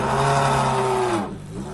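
A Corvette race car engine revs loud and close, holding a steady pitch with strong harmonics before the revs sweep down and fade near the end; no one speaks.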